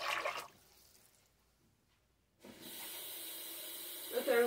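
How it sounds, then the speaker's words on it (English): A cup of water pours into a soup pot with a short, loud splashing hiss, then a quiet lull, followed by a second steady stream of pouring water that runs to the end. "I'm going to add 3 more cups of water"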